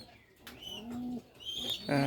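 Soft cooing from racing pigeons rolls out in a low, throaty murmur, with a few brighter chirps mixed in close by.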